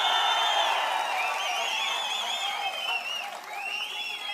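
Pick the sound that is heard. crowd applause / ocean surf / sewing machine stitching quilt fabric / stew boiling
crowd applause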